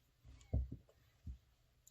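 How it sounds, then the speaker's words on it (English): Scissors snip through crochet yarn close to the mic: a few quiet, quick clicks in a short cluster, then one more snip, against near silence. "I'm just gonna cut off my yarn here"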